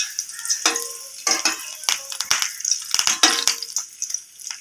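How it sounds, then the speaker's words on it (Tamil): Curry leaves crackle and sputter in hot oil while Thattai and Omapodi snacks are made, a quick run of sharp, bright pops and sizzles bursting irregularly, close and fairly loud, with no talking. "கருவேப்பிலையில் சலசலன்னு இதாகிடும்"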